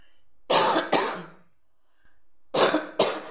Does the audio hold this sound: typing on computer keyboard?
no